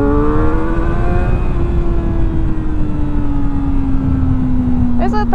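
A motorcycle engine screams high toward its redline, a sustained loud rising-then-holding whine with rich harmonics, close and alone, ending with a quick shift blip.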